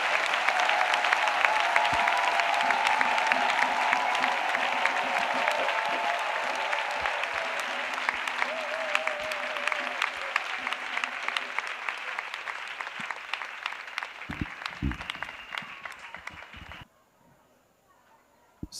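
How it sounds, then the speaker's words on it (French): A church congregation claps at a prayer and intercession gathering, a dense sustained round of applause with faint voices and music underneath that fades and stops abruptly near the end, leaving near silence. "Clap offering to Jesus."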